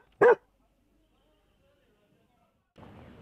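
A dog lets out one short, sharp bark up close. Near-silence follows for a couple of seconds before a voice begins speaking.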